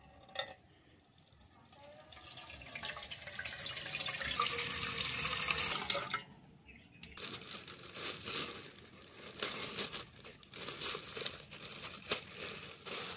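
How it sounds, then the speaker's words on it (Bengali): Tap water runs into a bowl for soaking puffed rice, rising to a steady hiss before stopping, followed by softer sloshing, stirring and rustling, close and moderately quiet. "মুড়ি ভেজানোর জন্য গামলায় জল নিয়ে নিচ্ছি"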